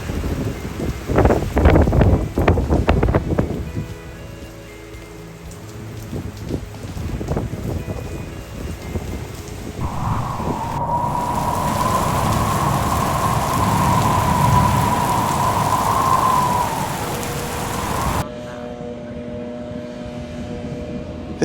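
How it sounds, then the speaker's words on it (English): Heavy rain during Hurricane Ian in Clermont, Florida, a loud, rushing wash with gusty surges, a sustained whining tone rising in the middle, then cutting off abruptly to a quieter hiss. "The day after was just more rain coming down and some winds continued to blow."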